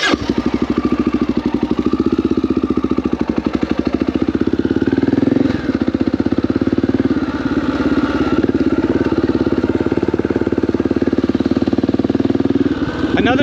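A Honda XR650L dual-sport motorcycle with a single-cylinder engine runs steadily at a loud, close idle with a continuous thumping pulse, while a voice talks over it throughout.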